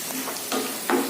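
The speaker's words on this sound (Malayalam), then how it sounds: "ഇതൊന്ന് വറുത്തെടുക്കാം." Two handfuls of peanuts frying in oil in a pan, a soft low sizzle with a few gentle stirring bursts, quiet and close with no talking.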